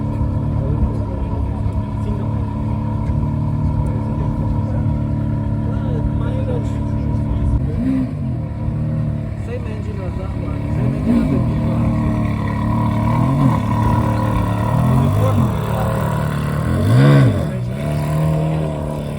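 A Ferrari Challenge Stradale engine rumbles and revs at a crowded car event, with deep idling punctuated by a few sharper throttle blips, while people talk loudly nearby throughout.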